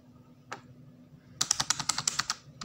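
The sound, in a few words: typing a list on a computer keyboard in Microsoft Word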